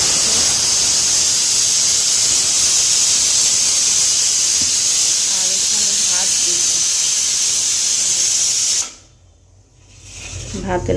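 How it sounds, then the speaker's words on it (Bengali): A pressure cooker of potatoes on the stove gives a loud, continuous close hiss of escaping steam that cuts out abruptly near the end, leaving near-silence with faint low noise. "প্রেশার কুকারে আলু দিছি আলু সিদ্ধ"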